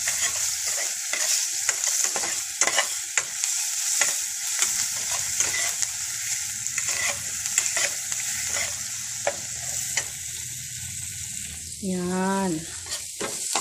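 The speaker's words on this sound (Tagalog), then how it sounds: "Ilagay na natin yung ating bawang. Ayan. Sa ating butter." Garlic sizzles and fries in butter in a pan while it is stirred, a close, steady crackle with scraping strokes. A voice speaks briefly over the cooking.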